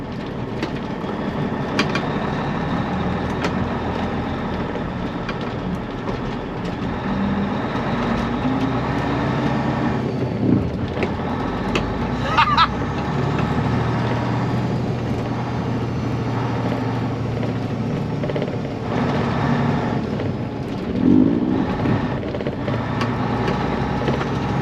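A 1993 Peterbilt cabover truck drives along steadily, its engine a continuous low rumble with road and cab noise throughout and a few brief knocks and rattles.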